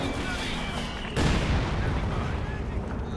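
A Katyusha rocket artillery barrage in a Company of Heroes 2 match thunders in as a sudden dense roar of overlapping blasts. A rushing, crackling rumble follows and carries on loudly to the end.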